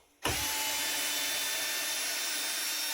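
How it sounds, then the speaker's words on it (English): A steady, loud electric motor whine starts abruptly after a brief quiet moment and holds constant, like a power drill running continuously. "Now this is for drilling"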